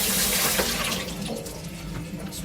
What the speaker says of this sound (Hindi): पहले फूड को धो लेते हैं,